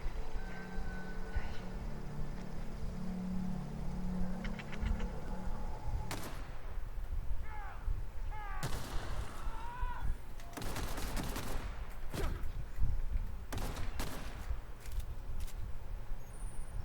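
Enemy gunfire in The Outer Worlds comes as scattered sharp shots, then several rapid bursts later on. Game sounds run underneath.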